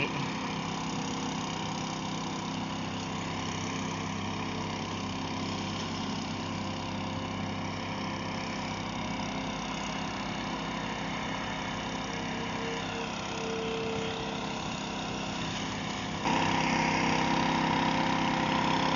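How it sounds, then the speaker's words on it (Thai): A water pump runs continuously at close range beside an excavator dig, a steady motor drone and constant mechanical hum with slight shifts in tone and no speech. "อาจมีเสียงเครื่องสูบน้ำรบกวนนิดนึงครับ"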